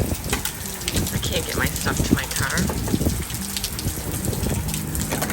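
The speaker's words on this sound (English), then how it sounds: "Oh, you guys, it is pouring out now." Heavy rain pours outside a thrift store, a loud, continuous hiss of rain striking the ground and other surfaces while a person talks over it.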